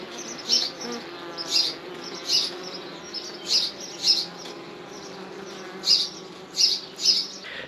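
A honeybee swarm buzzes inside a nuc box on a homestead, a steady close drone broken by louder rising whines roughly every second as individual bees pass near.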